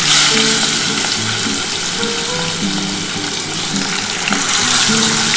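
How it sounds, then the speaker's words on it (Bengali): Pieces of pomfret fry in hot oil one at a time, giving a loud, dense, close sizzle that crackles steadily throughout with no voices. "এবার দেখো আমি একটা একটা করে ভেজে নিচ্ছি"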